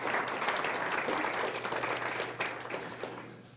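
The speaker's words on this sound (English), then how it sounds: "let's give all these individuals a round of applause" An audience at a school district event claps together in steady applause that fades toward the end.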